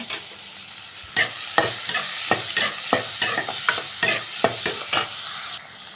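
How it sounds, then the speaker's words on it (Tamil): Onion and garlic sauté in a pan for a bitter gourd kulambu, with a steady sizzle broken by repeated, fairly loud scraping strokes of a spoon stirring through the pan, close by and without talk. "வெங்காயம் பூண்டு வந்து நல்லா வதக்கிக்கலாங்க"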